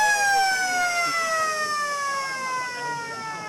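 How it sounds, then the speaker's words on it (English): A loud, sustained end-of-game siren at an Australian rules football match wails steadily for several seconds, slowly falling in pitch, over a faint background of crowd and commentary. "And there's the siren. Game over."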